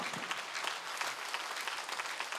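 A church congregation at a Sunday worship service claps together in a steady, dense burst of applause that lasts a couple of seconds at moderate volume, with no voices over it.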